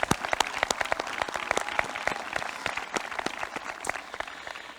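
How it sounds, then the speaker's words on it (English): Steady, fairly soft applause from a crowd at a high school graduation ceremony, many hands clapping continuously with distinct sharp claps, no talking. "Please give them a round of applause."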